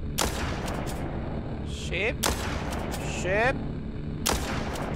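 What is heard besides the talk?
gunshots in the video game Walking Zombie 2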